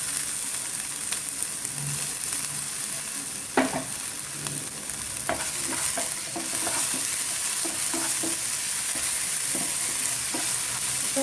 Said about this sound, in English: Saute until the raw smell of the ginger garlic goes off.